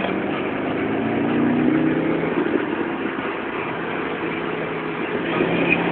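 An Audi S4 engine drones steadily while driving on the Infineon Raceway circuit, a continuous loud mid-range hum with a slight rise in pitch, heard from inside the car with no talking.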